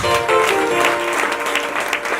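A church congregation applauds in praise of God, a steady wash of clapping with a few voices mixed in over about two seconds.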